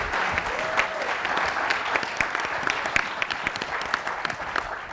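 An audience applauds steadily as a contestant comes on stage at an entrepreneurship challenge event, a sustained wash of many hands clapping at even loudness for five seconds.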